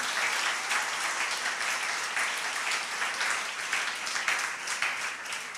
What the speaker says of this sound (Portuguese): Continue aplaudindo.